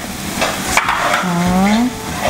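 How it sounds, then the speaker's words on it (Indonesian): Spice paste being stirred and fried in a pan for a tempeh and green bean stir-fry, a continuous sizzle with scraping stirring strokes and a brief tonal squeak of utensil on pan. "Aduk-aduk terus ya bumbunya nih."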